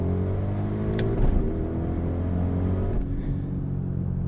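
Audi RSQ8 (2023) engine heard from inside the cabin on a downshift, a deep steady rumble with a brief blip and faint pops, then settling back to a low drone.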